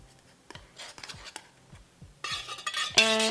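Fragrance oil being stirred into melted candle wax: light scraping taps of a utensil against the container, growing louder and busier toward the end with a brief ringing clink.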